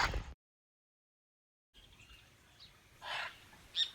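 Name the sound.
scarlet macaws squawking in trees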